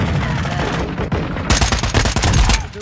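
Bursts of gunfire from a small ten-round weapon in a ground-war video game mode: rapid cracking shots, sparse at first, then a dense volley of loud reports in the second half.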